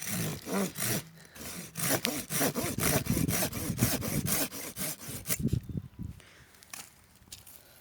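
A hand saw cuts through a pear branch with quick, rhythmic back-and-forth strokes, close and loud, before slowing and stopping near the end.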